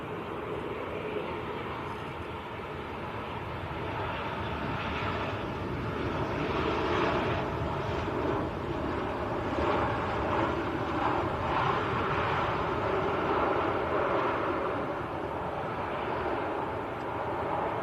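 An airliner at Manchester Airport roars steadily and loudly throughout, a broad continuous engine rumble that swells slightly toward the middle, heard by a plane spotter with no talking.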